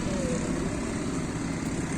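A stock motorcycle engine, a Dominar 400 or MT-15, growls in a steady low rumble throughout, with voices mixed in over it.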